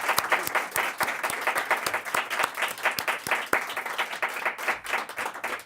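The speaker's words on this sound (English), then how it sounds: "Let's give them a big round of applause" Audience applause at a public forum for at-large school board candidates, a dense burst of many hands clapping with sharp individual claps standing out, steady and fairly close throughout.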